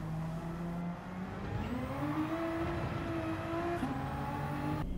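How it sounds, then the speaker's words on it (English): Race car engine in Gran Turismo revving hard under full throttle, its pitch climbing steadily and holding high with a brief dip near the end, loud and continuous with no talking. "And let's look at that once again in full speed and listen for the throttle."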